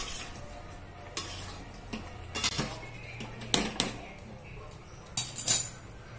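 Dry Jain cabbage manchurian tossed in sauce in a pan: a spoon clinks and scrapes against the metal in scattered strokes over a faint sizzle, with no talking.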